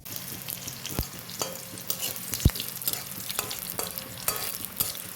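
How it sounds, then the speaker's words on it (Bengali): Green chillies and nigella seeds frying in oil for a tempering, a close sizzle broken by sharp stirring scrapes and clacks of a spoon against the pan, no talking. "এই দেখো কাঁচা লঙ্কা আর কালো জিরে ভালো করে ভেজে নিয়েছি, এটাই ফোড়নে দেব"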